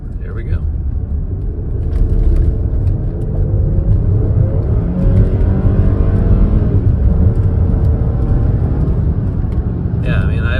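An Audi with a 3.0T engine, freshly fitted with new coils and spark plugs, accelerates from inside the cabin, its engine rumble swelling and holding steady under a muffled low drone.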